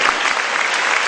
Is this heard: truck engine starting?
no